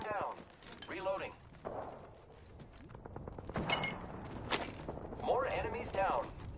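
Gunfire in the video game Apex Legends, with sharp rapid shots clustered mid-clip between other game sounds and voice-like callouts, at moderate loudness.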